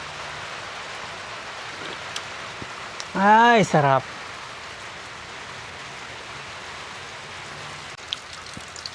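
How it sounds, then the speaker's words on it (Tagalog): Steady rain falls in the evening, a constant soft hiss throughout, while a person briefly exclaims in the middle. "Ang sarap magkape habang umuulan."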